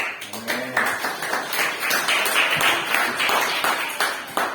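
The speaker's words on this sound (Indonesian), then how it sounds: "Beri tepuk tangan bagi Tuhan." A church congregation claps in praise during an Indonesian sermon, a dense, steady patter of many hands filling the room at close to moderate distance, with some voices mixed in.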